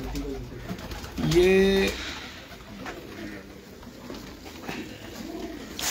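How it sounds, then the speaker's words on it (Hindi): Breeder pigeons in a Lahore fancier's loft give a soft, low cooing burst near the start, then fainter coos under someone talking close by. "ये उनके घर के कबूतर हैं और मेन ब्रीडर कबूतर हैं"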